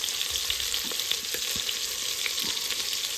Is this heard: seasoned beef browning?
yes